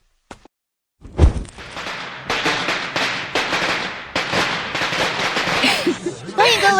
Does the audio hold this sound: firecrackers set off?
yes